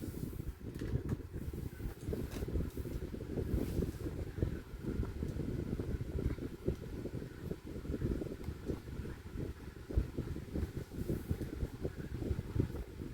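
A Lasko 12-inch desk fan, Model 2000, with a metal front grille, running at its second speed: a steady low whooshing airflow with a soft flutter, constant and moderately quiet throughout.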